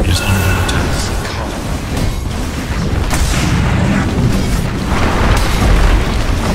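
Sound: tower under attack in the video game Dota 2

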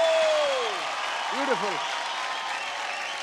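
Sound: applause

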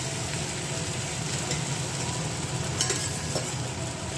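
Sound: potatoes being stir-fried for egg curry

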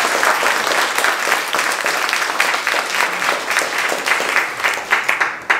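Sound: audience applause

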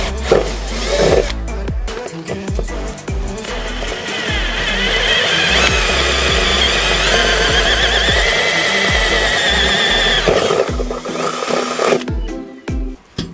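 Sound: drilling holes with 3 mm and 8 mm drill bits

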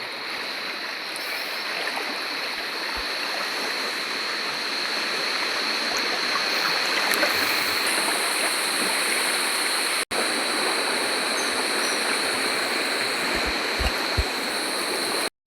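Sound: river stream water flowing

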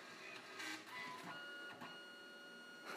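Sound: Canon CP910 photo printer starting up

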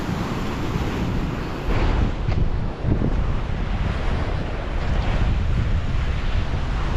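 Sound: wind at the seaside

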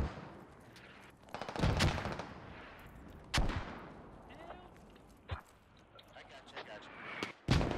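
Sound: gunfire from the video game Squad

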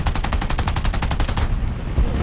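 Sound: 50 cal machine gun fire in War Thunder video game

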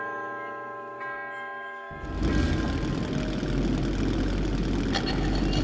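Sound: handcar (drezina) motor running, from video game Metro 2033 Redux

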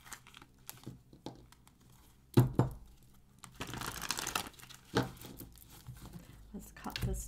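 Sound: shuffling a deck of tarot cards

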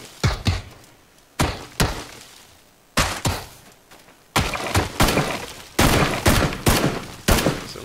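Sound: gunfire in PUBG video game

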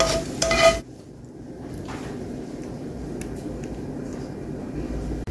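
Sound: straining grease off sautéed vegetables

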